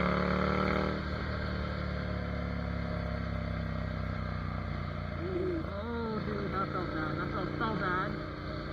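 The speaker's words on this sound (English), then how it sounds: "It's so good just riding a motorcycle." Ducati Monster 797 motorcycle engine droning steadily while riding, a continuous close hum with rising and falling pitch through gear changes, under speech and wind noise.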